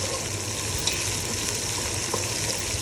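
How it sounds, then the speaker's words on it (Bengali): Large prawns cut into pieces fry in a pan, a steady close hiss of sizzling oil that runs without break, with a few faint knocks as the pieces are stirred. "এটাকে একটু ভেজে নিব"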